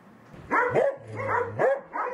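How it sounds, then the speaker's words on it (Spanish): Malnourished, sick dogs with dermatitis, open wounds and distemper barking close by, a few loud yelping barks with whiny, strained tones in quick succession. "Los ladridos de Pecas, Negro, Coco y Toby tienen más dolor que nunca"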